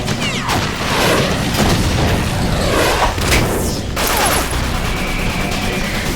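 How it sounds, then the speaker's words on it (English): Rockets hit an armored Metal Gear in Metal Gear Solid 2, a loud run of heavy booms and thuds that follow one another, with crackling debris and a whine near the end and no talk over them. "I used rockets."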